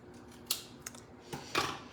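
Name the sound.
scissors trimming excess paper for a card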